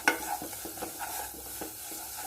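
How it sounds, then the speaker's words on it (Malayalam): Masala paste being sautéed in a pan for egg roast, quiet repeated scraping stirs over a soft, steady sizzle with no voices. "ഇനി അരപ്പ് പച്ചച്ചോയം മാറുന്നത് വരെ നന്നായി വഴറ്റുക."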